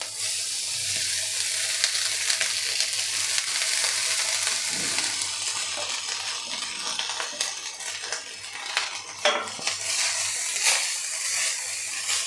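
Vegetable fried rice being gently mixed in a hot pan, a steady bright sizzle with soft scraping and occasional light clinks of the spoon against the metal.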